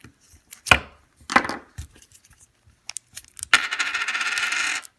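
A paper coin roll of old pennies and nickels is cut open, then coins spill out and rattle in a dense, bright jangle lasting about a second and a half. Several sharp clicks and cuts come before it, close and clear, with no voices.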